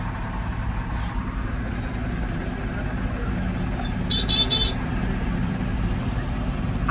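A traffic jam in Jalgaon with cars and trucks gives a constant low idling-engine rumble throughout, and a brief horn honk cuts through about midway.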